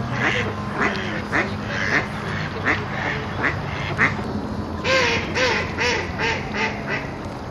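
Several ducks quack repeatedly in a busy chorus, calls overlapping at close to middle distance with scattered bird chatter around them, steady and fairly loud throughout.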